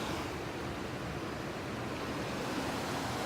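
The main flow of a small river, fished for perch and trout, rushes with a faint, steady broadband hiss of moving water, with no voices.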